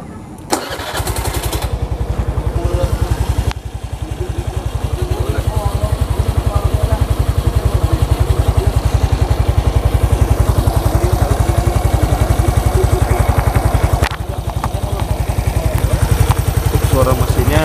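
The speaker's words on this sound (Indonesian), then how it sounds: "Suara mesinnya seperti ini ya sobat ya." Suzuki Nex Crossover scooter, ridden 11,211 km as an online-taxi bike, is started and then idles with a steady, close, even putter that runs on to the end.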